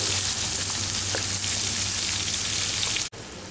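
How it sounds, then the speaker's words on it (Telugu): Sliced onions with mustard seeds frying in hot oil for an Andhra-style egg pulusu, a steady dense sizzle and crackle close up, continuous throughout and ending in a brief cutoff near the end. "ఇప్పుడు ఇందులో సన్నగా తరిగినటువంటి ఉల్లిపాయ ముక్కలు వేసుకోవాలి. వేసుకొని వీటిని కాసేపు దూరగా వేయించుకోవాలి."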